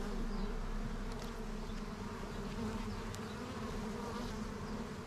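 Honey bees drone steadily at a bee garden hive, a dense continuous buzz filling the whole stretch at close range with no voices over it.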